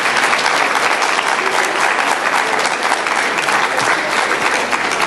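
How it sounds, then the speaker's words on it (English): A large audience at an education symposium applauds the closing keynote speaker, a dense, steady wash of clapping from many hands that fills the whole stretch at even loudness, with no voices rising above it. "Can we get one more round of applause for our closing keynote?"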